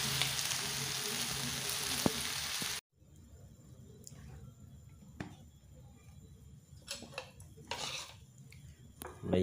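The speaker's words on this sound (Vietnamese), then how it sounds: "Bây giờ đến mình chiên trứng nha mọi người." Eggs frying in a hot pan for stir-fried noodles, a loud steady sizzle that cuts off abruptly, then quieter crackling and occasional clinks of utensils.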